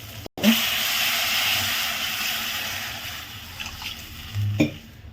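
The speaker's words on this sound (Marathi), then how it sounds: "आता आपण यात पाणी टाकलंय" Hot fried onion-tomato masala with homemade spice mix hisses steadily after water is poured in, a continuous close sizzle and steam with a brief crackle near the start and a bubbling surge toward the end.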